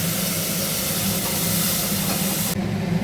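Water poured into a pan of cooking cashew and poppy seed paste, giving a loud, steady steaming hiss and sizzle that cuts off abruptly near the end.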